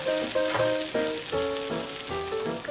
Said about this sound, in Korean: 새우가 잘 어우러지도록 볶아준 다음 불을 꺼주세요